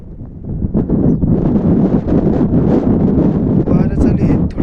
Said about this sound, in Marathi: वारं चालू आहे.